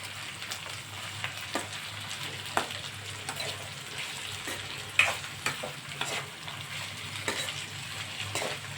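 Ivy gourd pieces fry with turmeric in a pan while being stirred, a soft continuous sizzle with irregular spoon scrapes and taps against the pan, close and fairly quiet.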